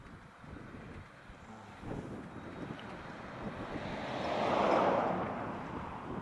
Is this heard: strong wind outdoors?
yes